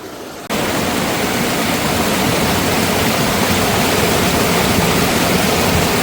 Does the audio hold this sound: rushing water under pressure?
yes